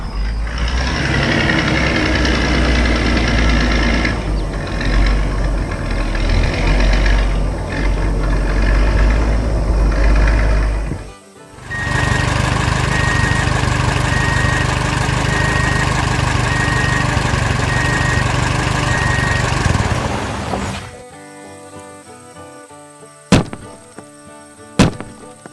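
An orange Kubota excavator working a farm runs its engine loudly and steadily, with a brief dip partway through, then cuts off to quieter noise broken by a couple of sharp knocks.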